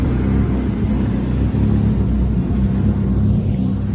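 A drift car engine idles with a deep, steady rumble close by in Suzuka, Japan, low and throbbing without revving, continuous for the whole stretch.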